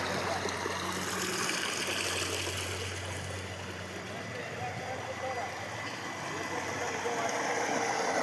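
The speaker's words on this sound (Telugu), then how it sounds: "ఫిల్టర్ అవుతున్నాయి వాటరు ఇక్కడ చూడండి ఎంత ప్రెషర్ కొడుతుంది" Water gushes under pressure through the filters of a sewage treatment plant, a steady, loud, broadband rush that holds evenly throughout.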